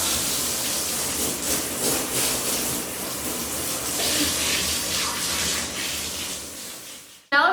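Water pours into a bathtub to wash a dog, a loud, continuous rushing hiss that cuts off abruptly near the end.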